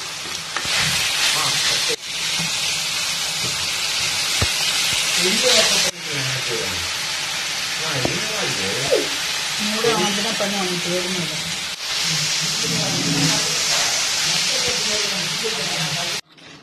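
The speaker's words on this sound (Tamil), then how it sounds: "இப்போ இதெல்லாம் நல்லா வதங்கட்டும்" Onions and tomatoes sauté in a pan for a gram dal gravy, a loud continuous sizzle and hiss from start to finish, with a voice talking over it in several stretches.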